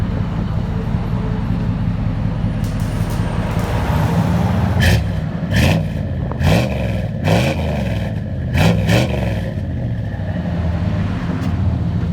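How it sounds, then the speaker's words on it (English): A 1990 Chevy Silverado 5.7L V8 with dual Flowmaster 40 series exhaust idles with a deep rumble, then gets a series of sharp revs that rise and fall before it settles back to idle, loud and close. "There's a Flowmaster 40 series muffler."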